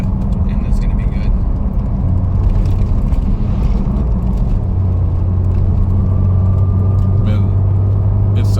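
A modified 991 Porsche Turbo making over 650 horsepower idles and revs close by. A loud, steady engine drone deepens into a stronger low hum partway through, with voices talking over it.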